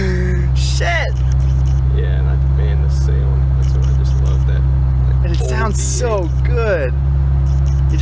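1995 Ferrari 348 Spider engine runs with a steady low droning hum, heard close up beneath people talking throughout.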